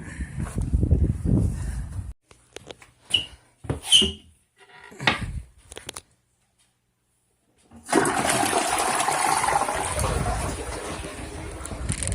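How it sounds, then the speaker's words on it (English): A backed-up household toilet flushes up close after a few clunks of handling, its broad rushing water sound swelling at about eight seconds and running steadily to the end. "I'm gonna go flush the toilet"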